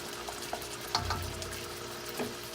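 Chicken fries in oil in a pan with a steady, soft crackling sizzle and scattered louder pops, heard close up with no talking.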